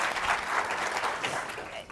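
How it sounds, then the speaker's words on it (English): Applause fills the hall at the 2024 Global Women's Summit, a thick, continuous patter of many hands clapping, fairly loud and sustained for the whole stretch. "a round of applause"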